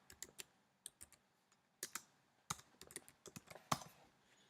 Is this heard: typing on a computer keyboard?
yes